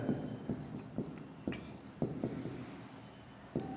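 Pen writing on paper while solving a class 10 linear equations problem, with repeated short scratchy strokes in a steady rhythm, close and fairly quiet, and no talk over it.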